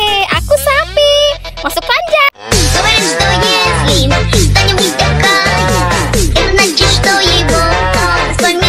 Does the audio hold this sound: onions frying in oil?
no